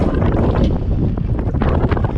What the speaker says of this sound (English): it's getting too windy and it's going to rain